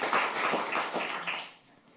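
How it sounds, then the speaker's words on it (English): Audience applause at a theatre talk event, a brief burst of clapping from a room of people that rises quickly, holds for about a second and a half, then fades out. "Please give a warm applause."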